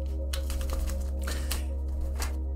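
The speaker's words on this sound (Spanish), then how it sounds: "una vez que terminemos de barajar bien las cartas" Tarot cards being shuffled by hand, a close, crisp run of rapid riffling and flicking clicks over a steady low electrical hum.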